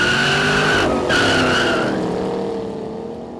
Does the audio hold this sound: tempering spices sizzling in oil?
no